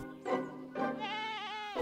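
A sheep bleats twice on a farm, loud and close: a short call, then a longer wavering bleat that trails on for about a second.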